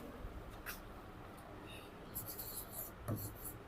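A pen scratches across paper while a math solution on surface area is written out, a soft continuous rubbing with a few sharper strokes, close and faint, with no talking.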